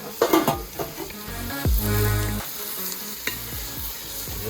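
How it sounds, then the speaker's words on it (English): Lamb korma sizzles loudly in a cast-iron potjie pot while being stirred, with crackling fry noise, a few heavy scraping and clunking strokes, and a brief surge of hiss, close up and without talking. "Just really giving it a stir that it can start to mix properly"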